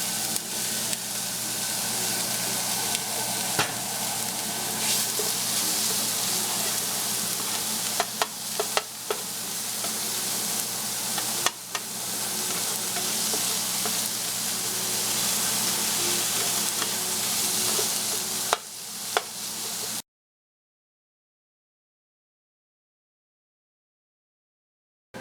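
Ground beef sizzling in a pan with browned onions, a steady, close frying hiss with occasional stirring scrapes for about twenty seconds before the sound cuts to silence.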